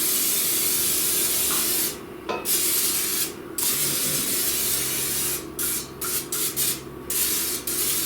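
Cooking spray hisses from an aerosol can onto a bundt cake pan in a series of bursts, one long spray followed by several shorter puffs with brief pauses between, close and clear.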